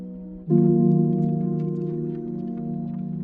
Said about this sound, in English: This is the piano sustain from the Imago Mary One Shots pack.